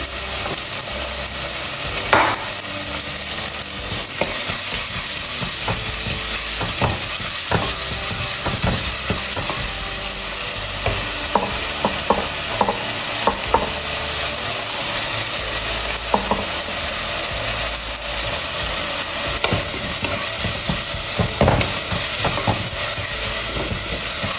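Ginger-garlic paste and salt fry in a hot pan, a steady loud sizzle running throughout with repeated scraping clacks of a spoon stirring, no voices.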